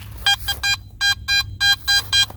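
A metal detector beeps rapidly in a quick, steady pulse of about eight short tones, loud and close, with a quiet background between them.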